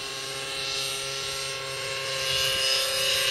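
A radio-controlled model helicopter hovers in place, its rotor and motor producing a steady, close whine with a faint pulsing rise and fall, heard alone without talk.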